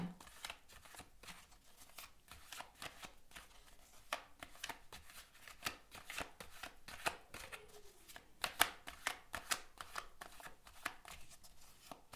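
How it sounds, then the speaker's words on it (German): Tarot cards are shuffled in a steady run of quick, soft riffling clicks, close but quiet, continuing for several seconds with no talking. "Dann beginne ich auch gleich und bitte die geistige Welt um eine Energie für den Wassermann."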